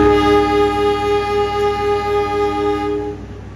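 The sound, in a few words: Pandalungan passenger train departing Rambipuji station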